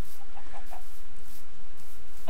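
Chickens in the Minecraft video game cluck in short, repeated bursts, close and fairly loud over a constant noisy background.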